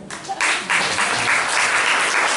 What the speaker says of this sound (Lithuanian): Aplodismentai mergaitėm.